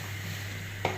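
Lentils (dal) sautéing in a pot for a Malabar spinach dish give off a steady, quiet sizzle, broken near the end by a single brief scrape of stirring.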